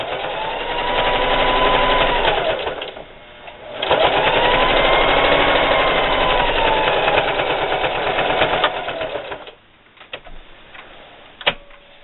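A sewing machine stitches a seam on a cathedral window style table topper in two long continuous runs with a brief pause between them, ending in quieter clicks and a few short taps.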